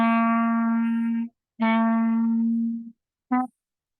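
Clarinet playing a slow phrase of When the Saints Go Marching In, two long sustained notes and a short final one, clear and close with no talking.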